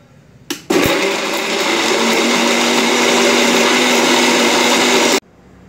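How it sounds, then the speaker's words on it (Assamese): An electric mixer grinder grinds ingredients for bor bhaji in a home kitchen. It starts abruptly after a brief clunk, holds a loud, steady whirring roar for about four and a half seconds, then cuts off sharply. "মিক্সিটোতে অকণমান মাৰি দিওঁ।"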